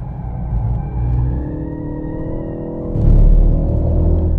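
A Ford Focus ST hot hatch engine drones loudly and steadily on a race track, then its pitch and volume rise sharply as it accelerates.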